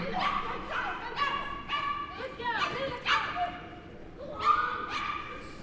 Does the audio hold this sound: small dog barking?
yes